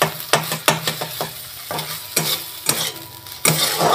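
Coriander leaf paste fries in hot oil as a utensil stirs it in a pan, with a sizzling hiss broken by a rapid series of sharp scraping strokes, loud and close, with no voices.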